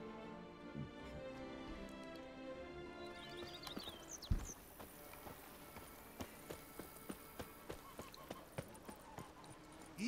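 A horse in The Witcher 3: Wild Hunt, Blood and Wine, with hooves clip-clopping in a steady, evenly spaced rhythm that grows more distinct in the second half over game ambience, after a sharp thud.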